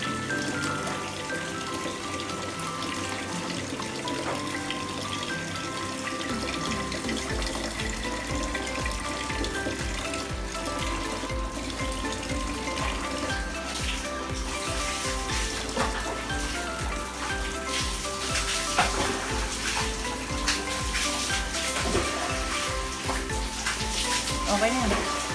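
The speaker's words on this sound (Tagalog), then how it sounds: "And then, you wash the bigas." Uncooked rice being washed by hand in a pot under a running kitchen tap, a steady splashing and rushing water noise that fills the whole stretch, with a voice talking faintly beneath it.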